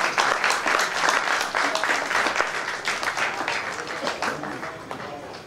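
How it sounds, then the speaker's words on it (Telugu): A crowd gathered for a Sri Sita Rama ceremony in Sri Rama Colony claps together, dense steady applause filling the whole stretch and slowly tapering toward the end. "ఒకసారి చప్పట్లు కొట్టండి."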